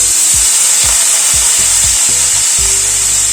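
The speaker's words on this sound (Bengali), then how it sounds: "এবার পেঁপেগুলো দিয়ে দিলাম" Papaya pieces drop into hot oil already tempered with hing, fenugreek, mustard seeds and curry leaves. A loud, steady sizzle runs throughout, with a series of soft knocks and scrapes as they are stirred in the pan.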